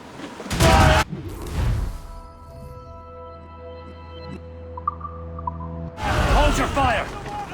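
Ship cannons fire in Assassin's Creed Rogue, two loud, booming broadside blasts several seconds apart with a low tonal hum between them.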